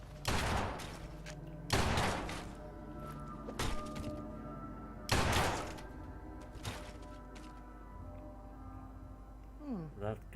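Several loud gunshots ring out in Fallout 4, spaced blasts with echoing tails, one around each couple of seconds, followed by quieter clatter and a short swooping tone near the end.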